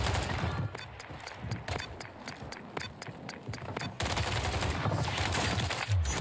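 Rapid bursts of MP7 submachine gun fire in Call of Duty on Rebirth Island, close and loud, with sharp shots crackling in quick strings over busy battle noise, then a denser stretch of fire near the end.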